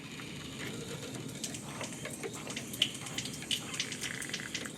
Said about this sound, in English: as you can hear, there is some water that are coming through there.